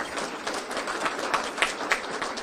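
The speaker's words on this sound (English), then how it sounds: "Yeah, big round of applause for all them." Audience applause at a chamber of commerce awards banquet, a steady patter of many hands clapping at moderate distance, fairly soft and continuous.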